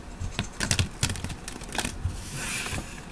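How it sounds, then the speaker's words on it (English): Quick papery riffles and slaps of tarot cards being shuffled close up, a burst of crisp flicks followed by a softer rustle. "I'm going to shuffle these just once."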